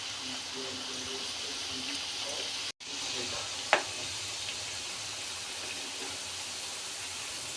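Bhajani chakli deep-frying in hot oil over a low flame, giving a steady soft sizzle and bubbling hiss throughout, with a brief sharper pop midway and a short dropout just before it.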